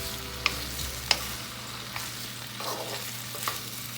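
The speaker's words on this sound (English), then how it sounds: "you're going to fry this for about 10 to 15 minutes until the potatoes and the cauliflower is tender" Potatoes and cauliflower fry in a pan with a soft, steady sizzle, a few sharp clinks of a utensil against the pan, and a low hum underneath.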